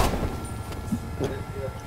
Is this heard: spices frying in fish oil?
no